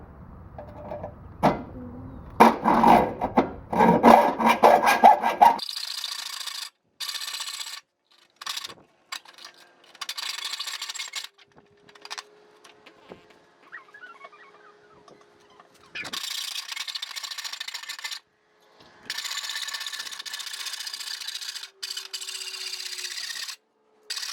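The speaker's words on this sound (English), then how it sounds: "This is aluminum, so it cuts really, really well with this hacksaw." A hacksaw cuts through two layers of aluminum on a lawnmower being turned into a brush mower. Fast rasping strokes come up close at first, then a long stretch of intermittent scraping and clinking follows with pauses between.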